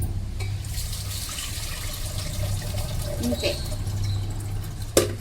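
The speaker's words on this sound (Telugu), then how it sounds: "ఇప్పుడు ఇందులో పోసేటప్పుడు ఓన్లీ వాటరే రావాలి" Rinse water is poured off washed ration rice, giving a continuous close splashing, trickling pour with a sharp knock near the end and someone speaking briefly over it.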